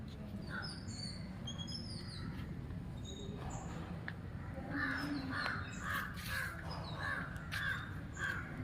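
Several crows caw repeatedly in the distance, harsh calls rising over a quiet outdoor background hum.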